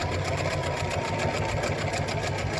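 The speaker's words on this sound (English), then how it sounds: "I'm going to continue sewing." A sewing machine stitches in a hidden zipper, running in a continuous rapid mechanical chatter at close range with no talk over it.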